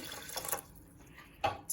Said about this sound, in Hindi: जितनी चीनी है उतना ही उसी नाप से आप पानी ऐड कर लीजिए।